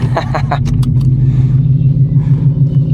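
A fast white car rumbles nearby with a steady, loud, low engine drone that holds evenly throughout, with a few brief higher bursts near the start.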